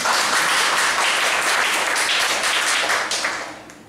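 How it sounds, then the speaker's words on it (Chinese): An audience at a talk bursts into applause, a dense, loud wash of many hands clapping that holds steady, then fades toward the end. "给大家掌声一下吧。"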